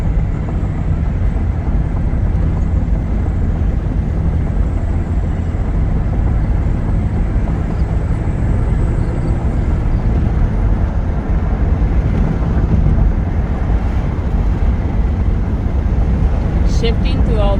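Steady engine and road drone inside a 2005 Ford Taurus pulling strongly up a hill, a continuous low rumble with tire noise that holds even and loud throughout, no voices over it.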